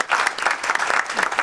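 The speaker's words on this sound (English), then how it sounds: "Can we give him a round of applause?" An audience gives a round of applause at a business talk, dense steady clapping filling the whole short stretch at moderate loudness with no voices over it.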